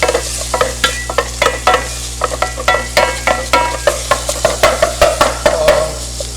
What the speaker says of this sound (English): you can lightly brown the onions, but don't brown the garlic because that would taste terrible